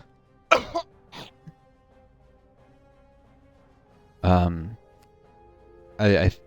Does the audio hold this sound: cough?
yes